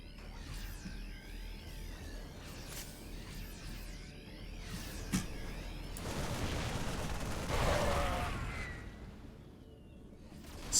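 In a StarCraft match, a missile bursts with a sharp whooshing blast amid ongoing gunfire and combat effects. Layered explosions and whistling tones swell in the middle before fading.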